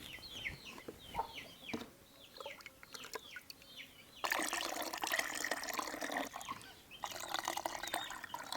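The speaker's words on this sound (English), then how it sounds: "I'm going to use the cup to pour in the jug so that we can have a taste" Enturire, a traditional drink from an Ankole village in western Uganda, poured by cup from a bucket into a jug in gushing bursts, with chickens clucking and birds chirping nearby.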